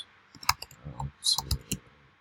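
Several sharp, close computer mouse clicks land at irregular intervals over about two seconds against a quiet background.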